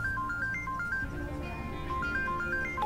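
A phone ringtone plays an electronic two-tone melody that repeats over and over without being answered, loud and steady across the whole moment with no talking over it.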